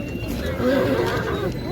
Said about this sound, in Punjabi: ਘੋੜੇ